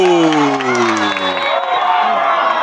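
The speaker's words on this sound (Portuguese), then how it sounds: "Faz a festa a torcida do Racing" Supporters of Racing cheering after their under-11 youth football side wins a penalty shootout against Grêmio Independente: a loud, continuous crowd roar with shouting and whoops, a commentator's voice speaking over it.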